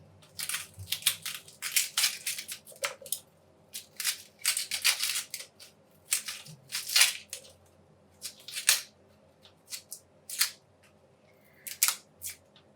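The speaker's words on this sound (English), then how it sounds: "And I put a slice and then peel it." Dry papery skin peeling and crackling off a sweet onion, a long run of short crisp rustles and snaps in irregular bursts, close and fairly loud, with no voices.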